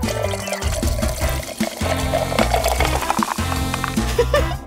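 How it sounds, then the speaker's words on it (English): Soda pours into a candy-filled balloon, a bubbly liquid gurgle and fizz running continuously with some splashing under a loud music bed. "Now pour in some soda."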